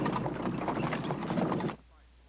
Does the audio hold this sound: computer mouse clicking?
no